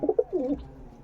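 Pigeons in a loft give a short burst of soft, low cooing, a few quick throaty notes close by.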